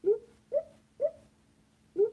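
Four short, squeaky cuica hoots with a bending pitch, fairly quiet and evenly paced, the last after a slightly longer pause.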